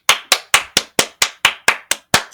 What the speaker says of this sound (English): Applause in there for me, Tom, because Homegirl deserves it, girly.